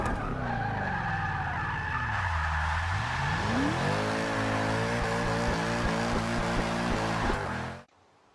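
A BMW drifting in the racing video game Forza Motorsport: a long, loud tire squeal over a revving engine whose pitch dips and climbs again as the car slides, ending abruptly.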